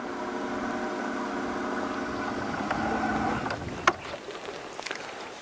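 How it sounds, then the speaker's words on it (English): A small outboard motor running on a Flycraft inflatable fishing boat out on the water, a steady close hum that cuts off partway through, leaving quiet ambience with a few light knocks. "It's pretty easy to run the motor from the sitting or the standing position."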